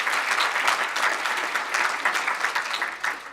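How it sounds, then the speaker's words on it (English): Applause from an audience at a political party event honouring an ambassador, steady dense clapping filling the short stretch at moderate loudness, with no talk over it. "give him a round of applause"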